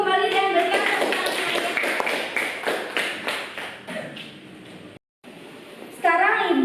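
An Indonesian school classroom claps in a quick rhythm, with voices of pupils and a teacher over the claps. The clapping fades out, drops briefly to silence, and then a voice returns.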